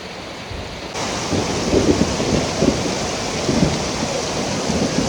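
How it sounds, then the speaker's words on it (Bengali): Heavy rain pours down in a violent storm over a waterlogged street, a dense continuous roar that swells after the first second and stays loud and steady, with low rumbling gusts underneath and no voices. "এত জোরে বৃষ্টি হচ্ছে"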